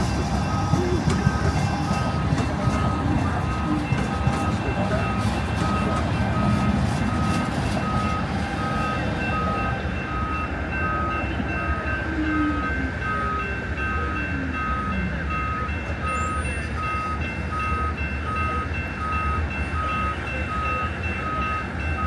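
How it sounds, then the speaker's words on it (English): A metro train passes close by, a loud sustained rumble and clatter of wheels on rails with a high steady tone, gradually easing after about ten seconds while a beeping tone continues. "There's the metro."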